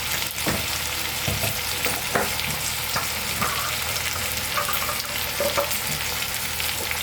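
Hyacinth beans and shrimp with chopped vegetables fry in oil in a pan, giving a steady close sizzle broken by the scrape and clatter of stirring, with no voices.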